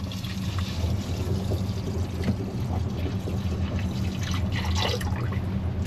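A marine toilet flushes muriatic acid down its pipes, giving a steady, moderately quiet trickling and gurgling water sound that runs continuously without any talking.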